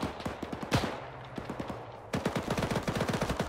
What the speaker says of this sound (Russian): лево стреляет немец